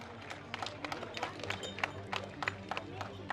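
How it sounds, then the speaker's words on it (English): Crowd applause for the junior top three at an IAME Middle East Cup karting prize ceremony: a steady wash of scattered clapping with sharp individual claps standing out, mid-distance, over a low hum. "Give your junior top 3 one more round of applause"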